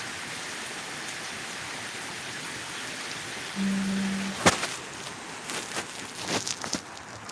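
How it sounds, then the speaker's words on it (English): Heavy rain falls steadily during a flash flood warning in New York, a continuous broad hiss with scattered sharper drops and brief knocks toward the end. "We're having heavy rain."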